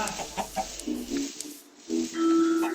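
Minecraft video game chicken giving a few short clucks and a brief higher squawk, close and fairly clear over a faint background.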